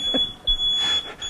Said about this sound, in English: They're testing the alarm system.